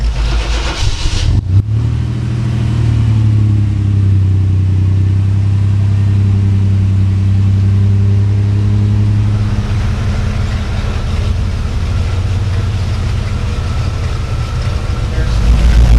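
A 1993 GMC Typhoon's engine runs loud and steady, with a brief burst of revving and a cut near the start, followed by a sustained close rumble as the truck pulls out.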